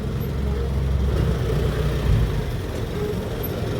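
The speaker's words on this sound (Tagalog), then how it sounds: "Matindang traffic dito" Heavy road traffic on a Baguio City street at dawn, a continuous low rumble of car, bus and truck engines idling and crawling nearby, with a faint hiss of passing vehicles.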